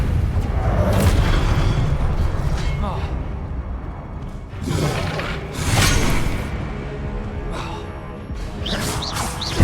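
Spell-casting blasts and whooshes in Hogwarts Legacy on PS5, a series of deep booming bursts with swelling rushes of air, loud and layered over continuous rumbling game sound.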